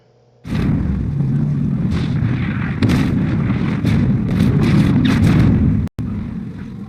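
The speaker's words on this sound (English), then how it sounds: "The sudden surge of power caused the volcano to erupt, destroying Tilted Towers, Retail Row, and the Ice Mountain" Massive volcanic eruption in the video game Fortnite, a sustained thundering roar with repeated heavy booming bursts, loud and close, cutting off sharply near the end before resuming.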